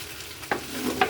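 Khichuri with beef is stirred in a pot, giving two sharp scraping strokes about half a second apart over a low background hiss.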